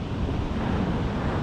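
Wind blows across a beach during surfcasting, a steady roaring rush mixed with surf and buffeting the microphone loudly, with no voices.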